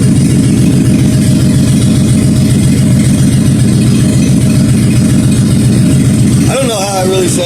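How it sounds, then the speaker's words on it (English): A 1956 Ford F100 truck engine idles with a choppy, lumpy rumble from open headers with no exhaust, steady and close, before a voice starts speaking near the end. "with this thing having open headers, open exhaust manifolds, it really does not sound that bad"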